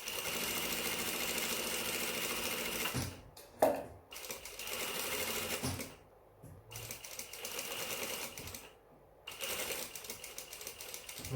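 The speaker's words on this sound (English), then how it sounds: "we're going to place our needle, and then we're going to start off with a back tack" A sewing machine stitches a back tack on pants, running in close, loud whirring bursts separated by a few brief pauses.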